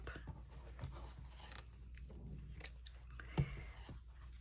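Cheap dollar-store scissors snipping through a white cotton fabric seam, quiet and close, with faint scattered snips and rustling and one sharper cut near the end.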